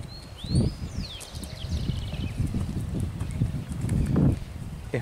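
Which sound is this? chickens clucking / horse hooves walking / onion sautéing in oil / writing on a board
horse hooves walking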